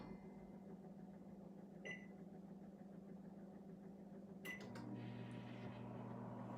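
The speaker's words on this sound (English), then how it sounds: "And this is a pretty powerful microwave" A powerful microwave oven runs at half power with a steady low hum throughout, a faint click near two seconds and a shift in the drone as something rattles near the five-second mark.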